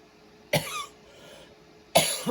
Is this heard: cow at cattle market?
no